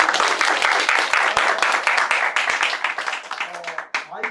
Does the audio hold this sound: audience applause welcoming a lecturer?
yes